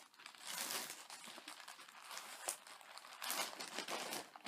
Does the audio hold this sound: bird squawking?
no